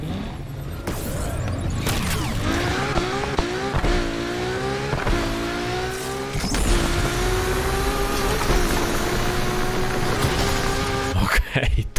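A LaFerrari engine in Need for Speed Unbound drones and climbs through repeated gear changes, revs rising and dropping in steady sweeps, loud and continuous from start to finish with no talk.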